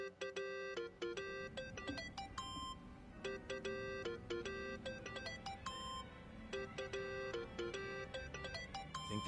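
A cell phone ringtone in the video game Like a Dragon plays a repeating electronic melody of bright beeping tones over a low background hum, steady and continuous, with no talking.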